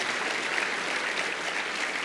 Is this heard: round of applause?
yes